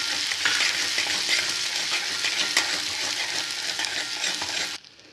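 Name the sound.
green chillies frying with ginger and garlic in oil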